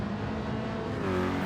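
Nissan GT-R engine in Gran Turismo 7 revving steadily at close range, a short continuous buzzing drone that rises slightly in pitch toward the end.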